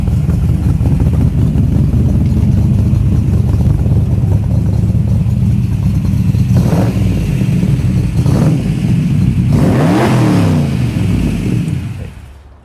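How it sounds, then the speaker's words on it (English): A Scaglietti Corvette's V8 engine rumbles loudly and steadily nearby, with several sharp revs rising above the idle before the sound cuts off at the end. "It's weird because after I saw the V8, then it started to sound like a V8."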